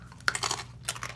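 Crunchy spicy lime Takis rolled tortilla chips are bitten and chewed close to the mouth, giving a few sharp crisp crunches in quick bursts with short pauses.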